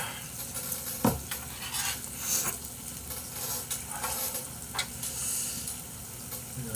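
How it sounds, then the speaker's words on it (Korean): Perilla leaves frying in a pan as a tortilla, a steady close sizzle with scattered stirring and utensil clinks against the pan, no talking. "지글지글 또 있는 마이야르 현상도 일어납니다."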